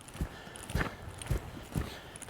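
Horse under saddle during a training ride, hooves clip-clopping in a steady walking rhythm of four clear close footfalls.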